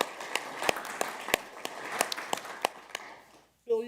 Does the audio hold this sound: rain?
no